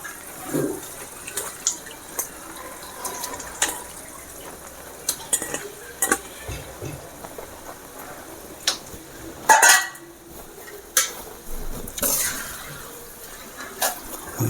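A spoon scrapes and clinks through dried chilli chicken curry in a pan, irregular soft stirring knocks and sizzles against a quiet kitchen background.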